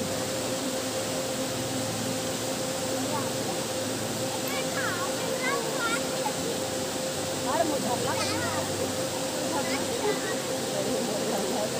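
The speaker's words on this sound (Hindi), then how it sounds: "काफ़ी सुंदर सा झरना है यहाँ पर का।" A waterfall at Damau Dhara flows at reduced volume, giving a steady, broadband rushing roar that fills the whole scene, with faint voices of a group in the background.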